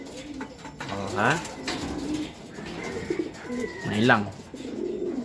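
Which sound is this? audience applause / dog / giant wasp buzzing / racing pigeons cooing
racing pigeons cooing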